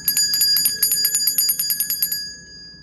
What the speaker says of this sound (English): so I'm about to ring the bell.